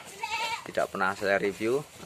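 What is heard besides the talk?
goats in a goat pen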